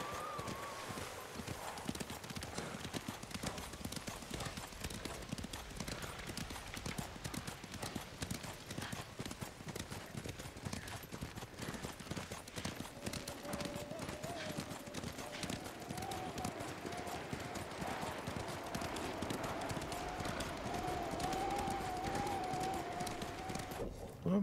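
Horse hooves clip-clop steadily at a trot through a Ghost of Tsushima game scene, a continuous rhythmic patter heard close under game voices and ambient music.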